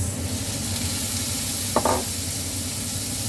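Tomatoes brown in a hot pan with a steady, close sizzle, broken once by a short clatter of stirring.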